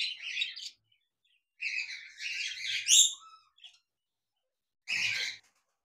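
A pair of pet cockatiels in a cage giving short bright chirps and whistled calls in three separated bursts, close and clear against silence.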